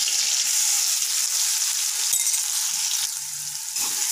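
Cumin, mustard seeds, green chilli and garlic paste sizzle steadily in hot oil in a pan, a dense continuous hiss close up with no talking.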